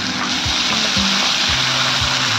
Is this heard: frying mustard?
yes